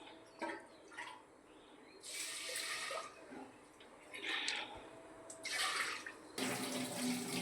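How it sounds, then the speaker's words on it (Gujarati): Toor dal rinsed under a running tap, several separate bursts of gushing, splashing water with quiet pauses between them, close and fairly soft. "હવે આપણે દાળને ધોઈ લઈએ"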